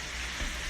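Buttermilk-coated trout fries in a pan with a steady, soft sizzle, heard alone and fairly quiet.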